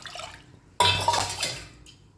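Water poured from a cup into a clay pot on a stove, an abrupt loud splash that continues as a short pour and fades within about a second.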